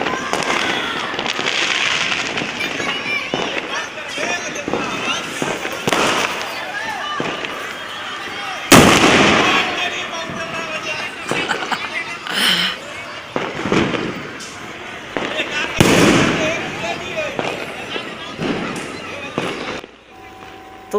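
Fireworks and firecrackers explode across a rooftop neighborhood during Chand Raat celebrations, with repeated sharp cracks and booming bursts near and far over constant crackling and crowd din, while someone talks throughout.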